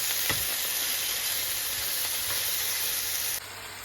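Chicken pieces frying in a small frying pan with only a little oil, a steady close sizzle and hiss with a few faint clinks, ending in a slightly quieter stretch.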